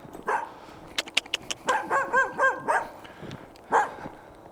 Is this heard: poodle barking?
yes